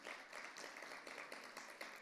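An audience at the 2025 Armenian American Forum applauds Sevan, a steady patter of many hands clapping, soft and somewhat distant, with no voices over it.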